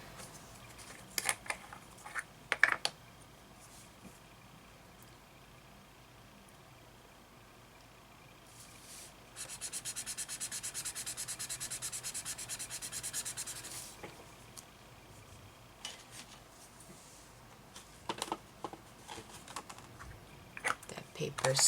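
Faber-Castell Polychromos colored pencil blended on paper with a paper stump, a close, steady, scratchy rubbing lasting a few seconds, with scattered taps and handling sounds before and after.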